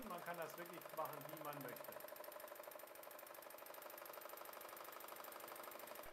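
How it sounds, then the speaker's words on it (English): A W6 N 5000 V2 sewing machine stitches fabric in free motion with a fast, steady mechanical patter, fairly faint, after a short stretch of talk at the start. "Let me just show you that on this little piece of fabric. This is how free motion stitching works."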